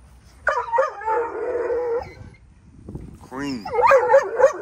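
A dog from a litter-producing household howls loudly and close by in a long drawn-out wail, then follows with wavering yips and whimpering howls, with a voice speaking briefly.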